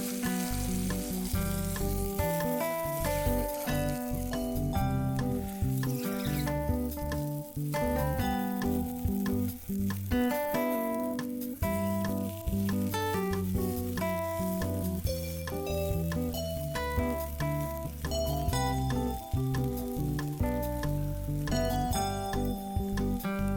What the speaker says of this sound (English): Listening to the sizzling sound makes me hungry already.